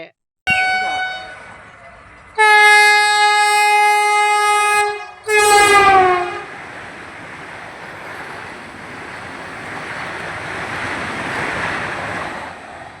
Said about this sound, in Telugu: అయ్యో వందే భారత్ రైలు రానే రావట్టే.